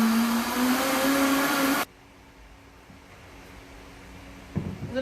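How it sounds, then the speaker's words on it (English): A Vitamix blender blends thick pumpkin pie filling, a loud, steady high-pitched motor roar that runs for almost two seconds and then cuts off abruptly, leaving quiet room noise and a brief clatter near the end. "Blender and blend it up."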